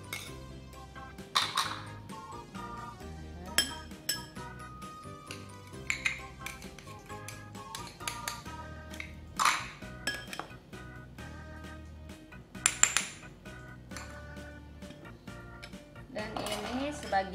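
Bakwan fritter batter ingredients being combined in a bowl: repeated clinks and taps of a utensil against the bowl in an irregular rhythm, close and fairly quiet.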